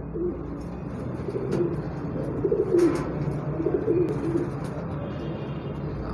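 A Rampuri female pigeon coos in soft, low, rolling bursts, close by, over a constant background hum.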